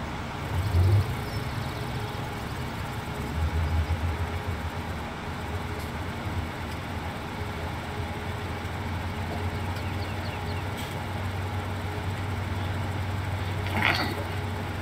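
A tractor engine in the Farming Simulator 17 video game runs with a steady low drone and rumble while it drives. The brief swells early on give way to a continuous hum that carries to the end.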